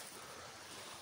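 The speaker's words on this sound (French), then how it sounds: "On arrive à la rivière." A river flows steadily in the open countryside near an old abandoned village, giving a continuous broadband rush of water, close and constant, with no talk over it.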